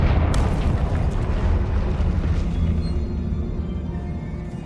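Confringo spell explosion in Hogwarts Legacy after a troll fight, a sudden loud boom with a bright crack at onset that rumbles and slowly fades over several seconds, no voices.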